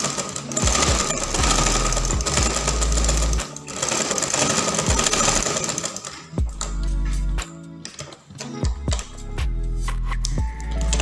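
A Butterfly sewing machine stitching fabric, with loud rapid mechanical whirring in long continuous runs broken by short pauses and clicks as the fabric is lifted and repositioned.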